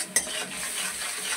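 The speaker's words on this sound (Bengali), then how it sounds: "এবার আমি ভালো করে মশলাটা কষিয়ে নেব" Spice paste sizzles and is stirred in a pan after a splash of water, with a close scrape of a utensil at the start and a steady frying hiss throughout.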